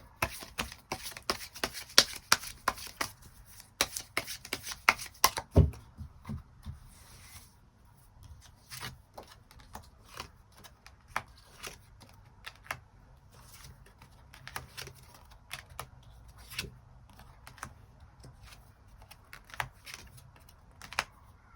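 Tarot cards shuffled and drawn during a reading: a dense, rapid riffling crackle for about five seconds, then sparser soft slides and taps as cards are laid out, quiet and close with no talk.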